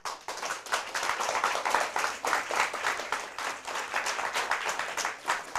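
Audience applause at a school mathematics championship, a dense steady wash of many hands clapping at once, sustained and fairly loud for several seconds with no voices over it.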